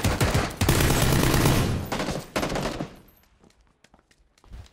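Video game gunfire rips out in loud, rapid automatic bursts, two long volleys separated by a short gap, then dies away into a few faint scattered clicks.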